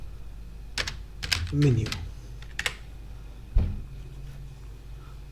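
Keystrokes on a computer keyboard tap out a short burst of clicks near the mic, with someone talking over and between them.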